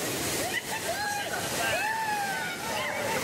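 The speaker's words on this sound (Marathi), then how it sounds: "कसा आहे वॉटरफॉल?" Kalu Waterfall at Malshej Ghat, a steady loud rush of falling water heard close, with voices talking over it.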